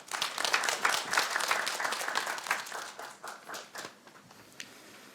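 Audience applause at a public policy forum on social value in public institutions, steady clapping that fades out over several seconds.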